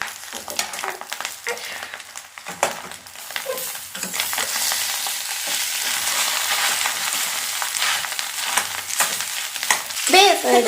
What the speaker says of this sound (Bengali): ভালোভাবে মিশিয়ে দিচ্ছি আমি